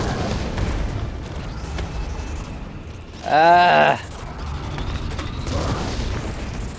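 Explosive grenade rounds fire in the Resident Evil 3 remake: deep booms and rumbling blasts roll on and off, broken midway by a brief, sharp, tonal cry.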